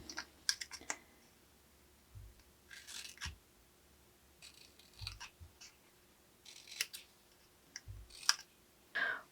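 Small scissors snip paper tabs on a miniature tea box in a series of brief, crisp cuts with short pauses between them, close and fairly quiet, with light handling sounds in between.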